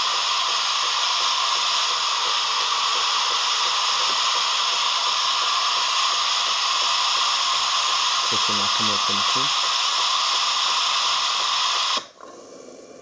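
A DeLonghi Gran Dama coffee machine steams milk in a test jug with a steady, loud, broadband hiss that runs unbroken for about twelve seconds, then cuts off abruptly; a brief burst of speech comes near the end.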